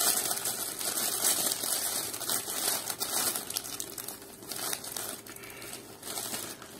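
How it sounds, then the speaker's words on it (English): Loud, continuous crinkling and rustling of stiff plastic packaging, crackling irregularly up close with no talking. "And we have a package opening."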